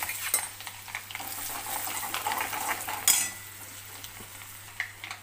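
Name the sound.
masala paste with spices and kasuri methi frying in a pan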